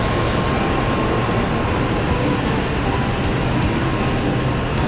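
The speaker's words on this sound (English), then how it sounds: "Hikari bullet train will take us to the destination in 4 hours and 20 minutes" Riding aboard a Hikari Shinkansen bullet train in Japan, a constant loud rushing roar of wind and rail noise fills the cabin without letup, with faint rhythmic ticks from the track passing beneath.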